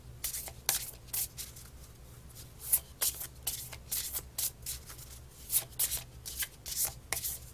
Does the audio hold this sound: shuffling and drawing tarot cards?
yes